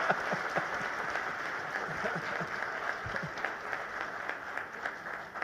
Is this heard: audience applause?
yes